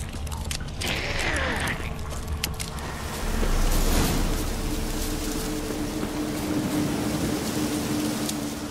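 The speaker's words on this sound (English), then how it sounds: "Looks like rain." Steady rain falls in The Witcher 3: Wild Hunt, a constant close hiss with faint mechanical clatter early on and a slight swell midway.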